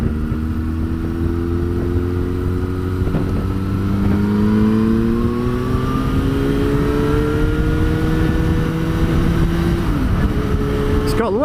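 A custom 2021 Yamaha FZ6 600 motorcycle being ridden: the engine drone climbs steadily in pitch, then drops sharply as it engine-brakes, with constant wind rush over the loud, close engine.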